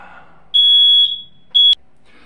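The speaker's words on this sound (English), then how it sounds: "you heard one of the infamous times when the smoke alarm goes off" Piercing high-pitched smoke alarm beeps: one long shrill tone followed by a shorter chirp, loud and close in an otherwise quiet room.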